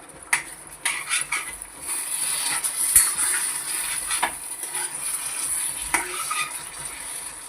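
Brinjal sautéing in a pan for a Marathi bharit, a soft continuous sizzle broken by intermittent scraping stirs and occasional light clinks of a spoon, close up with no talking.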